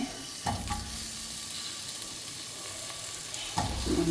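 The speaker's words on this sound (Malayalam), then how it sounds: "നമുക്ക് വെജിറ്റബിൾ അതിലിട്ടെടുത്ത് എന്നിട്ട് വാട്ടിയെടുക്കാം" Cauliflower and mixed vegetables sauté in a hot oiled pan for vegetable pulao, giving a steady close sizzle with a few sharp stirring knocks near the start and end.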